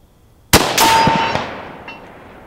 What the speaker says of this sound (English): So let's start off with a 200 yard shot.